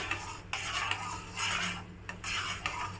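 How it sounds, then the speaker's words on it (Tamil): Semolina (rava) being stirred into boiling water in a pan while making rava kesari, with repeated scraping and rubbing strokes of a spoon against the pan, close and steady, in short bursts. "ஜலம் கொதிச்சுட்டு நான் இப்போ ரவையை போட்டு கலர போகிறேன்"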